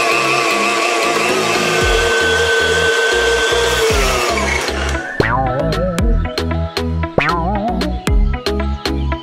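A blender motor whirs steadily, then switches to short pulsing bursts, all over a loud rhythmic musical beat.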